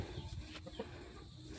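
A chicken clucks a few times amid a busy, noisy outdoor background, fairly faint.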